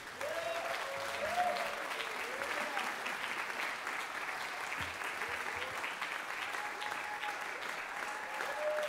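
An audience at a jazz orchestra concert applauds a guest artist, sustained, even clapping from a large crowd that fills the room for the whole stretch.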